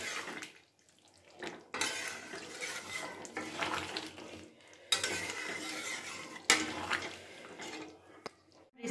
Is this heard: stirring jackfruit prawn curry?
yes